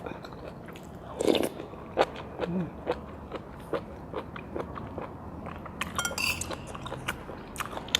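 Stir-fried large oyster mushrooms in oyster sauce are bitten and chewed up close, producing a series of crisp crunching bites and wet chewing at an irregular pace, with no talking.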